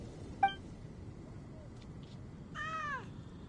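A cat meows in the fantasy game Genshin Impact, giving a short sharp mew followed after a pause by a longer, drawn-out meow, both clear and close over a soft background hum.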